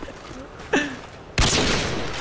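Gunfire in a one-on-one online shooter match, a faint sharp shot near the start followed by a loud burst that rings out and decays, with a brief voice earlier.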